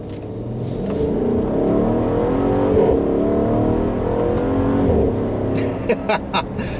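A 2016 Mercedes-Benz GL63 AMG SUV accelerates with a loud, rising engine roar, then several sharp exhaust crackles and pops pop out as the throttle lifts near the end.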